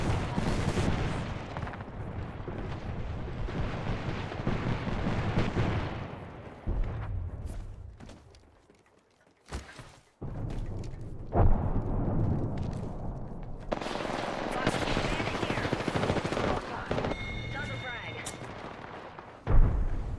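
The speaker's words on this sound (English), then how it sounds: "Fox 3, missile off the rails." Apex Legends gunfights play out with loud bursts, blasts and whooshing launches that come and go, pausing briefly near the middle, with some talk mixed in.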